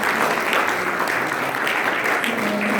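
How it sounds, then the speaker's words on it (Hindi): A crowd at a religious gathering marking Swami Shraddhanand's martyrdom day gives a hearty round of applause to honour a revered teacher, producing continuous, full clapping at close range from start to finish. "स्वरूप शास्त्री जी जो यहाँ पर उपस्थित है, एक बार इनके सम्मान में आप जोरदार तालियां बजाकर"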